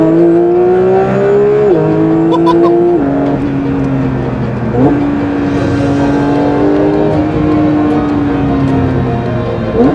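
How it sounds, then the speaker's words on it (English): A Porsche 911 Carrera 4 (991.1) with a naturally aspirated flat-six engine hums loudly and close as it climbs through gears, the engine note rising steadily then dropping at each shift, with a faint voice briefly underneath. "the last naturally aspirated, high revving flat six that you could get in a base 911"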